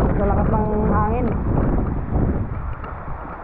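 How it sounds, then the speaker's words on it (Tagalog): Strong wind roars and buffets the microphone in a loud, steady rush, with voices briefly heard under it at the start. "Sa lakas ng hangin."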